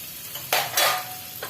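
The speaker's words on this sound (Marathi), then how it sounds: "मिक्स करून परतून घेऊया" Garlic, ginger and green chili sautéing in butter make a soft hiss, then two bright bursts of sizzle as more is stirred in, ending with a brief scrape.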